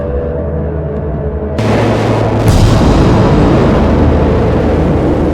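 A gas tank bursts in the game Children of the Sun, with a sudden loud broadband blast followed by a sustained rumbling roar and crackle, close and without any speech.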